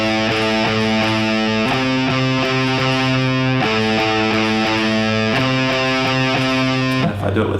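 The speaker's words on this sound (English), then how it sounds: "you end up having no palm muting because there's no part of your hand resting on the string" Distorted electric guitar plays sustained power chords without palm muting, the ringing chords changing every second or so in a steady riff before cutting off near the end.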